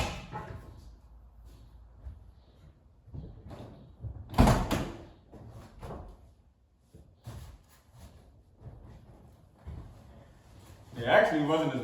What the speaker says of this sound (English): figure out how to get this door open right here